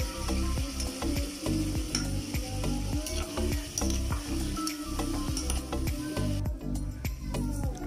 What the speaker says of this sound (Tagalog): Then ilagay ang pork. Then haloin.